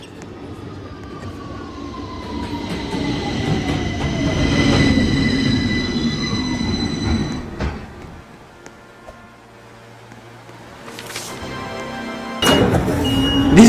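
A New York City subway train rumbles past at a station, loud and close, its wheels squealing with a long sliding screech, then the noise drops away before another burst of rattling and squeal.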